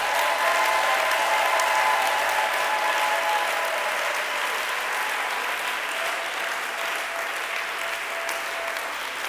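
A church congregation applauds and cheers during a special worship service, producing a dense, steady roar of clapping that fills the space and slowly eases off toward the end.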